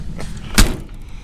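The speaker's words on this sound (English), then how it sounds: "Door shut really nice." The door of a 1955 Chevy gasser swings shut with one solid, close thud, after a faint latch click and amid low background noise.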